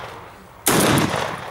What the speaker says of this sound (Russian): Спокойно, выстрелил,